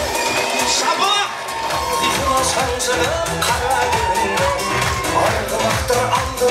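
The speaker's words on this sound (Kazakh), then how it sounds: "Шапалақ." A Kazakh party crowd at a dance contest and games cheers and shouts continuously, loud and dense, with voices calling out throughout.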